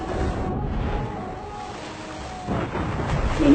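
A story soundtrack carries a thunderstorm effect at sea: a deep, rumbling roar that swells and churns like wind and surf, growing louder toward the end.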